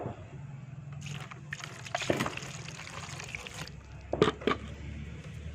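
Water splashes and trickles over a soft lump of clay, with a brief louder pour midway and a couple of wet splashes near the end, close by.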